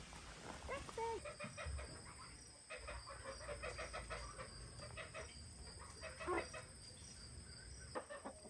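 Farm hens and a rooster cluck softly in the background of a quiet barnyard during morning chores, with faint crickets and a steady high insect whine; low and distant, a few louder clucks near the middle.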